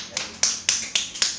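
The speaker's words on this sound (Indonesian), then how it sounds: "Tepuk tangan dulu untuk Nabil" A classroom applauds a student in an Islamic studies lesson with a few sharp hand claps, about five crisp, evenly spaced slaps in quick succession, close and distinct.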